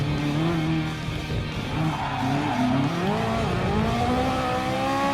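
A race car braking hard into the first chicane at Monza in Gran Turismo Sport: a loud, steady engine note dropping and wavering in pitch, with tire squeal under it and no talk.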